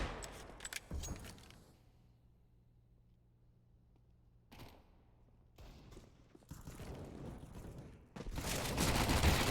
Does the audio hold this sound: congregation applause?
no